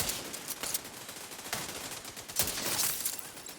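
Rapid video-game gunfire from a scoped weapon in a shooter, a handful of sharp, loud shots spaced unevenly over steady battle noise.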